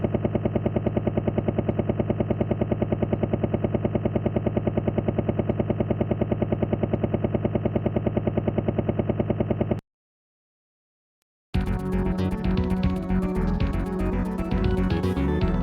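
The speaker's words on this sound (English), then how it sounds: "Please let me kick a helicopter out of the sky." A retro MSX Contra-style video game plays a steady, buzzing helicopter drone with rapid clattering gunfire. The sound cuts to brief silence, then returns with busier game noise.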